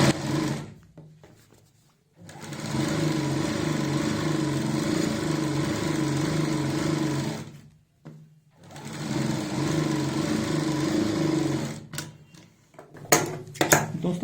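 A sewing machine runs straight stitches along salwar fabric in two long, steady runs of loud, close whirring, separated by a short pause, with light clicks and handling noises at the start and end.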